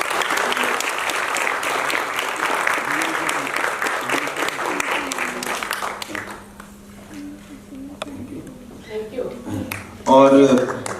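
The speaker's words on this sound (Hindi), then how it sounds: "तो एक बार उनके लिए भी तालियां" A theatre festival award ceremony audience applauds a family, with loud continuous clapping for about six seconds that thins out into scattered claps, followed by someone speaking briefly.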